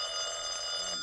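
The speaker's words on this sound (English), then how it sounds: "Oh, darn it, who's that? Answer the phone, Mary." Old-fashioned telephone bell ringing in a radio comedy scene, one continuous loud, bright electric ring close by with no voices over it.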